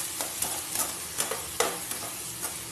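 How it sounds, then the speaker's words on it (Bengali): A spoon stirs poppy seed paste through frying pointed gourd and onion in a pan, giving a soft steady sizzle broken by repeated scraping strokes, close and fairly quiet with no talk. "পোস্তটা দিয়ে এবার ভালো করে আমি নেড়ে নেবো 2 থেকে 3 মিনিট।"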